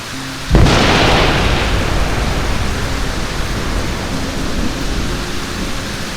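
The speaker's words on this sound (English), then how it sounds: "after that it started raining and thundering." A sudden loud thunderclap bursts during a storm in the Australian Wheatbelt, then rolls into a long, dense rumble mixed with steady rain that gradually eases but continues to the end.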